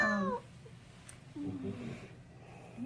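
A cat meows loudly once at the start while a veterinary cystocentesis (urine sample drawn from the bladder) is performed, followed by quieter voices talking in a clinic room.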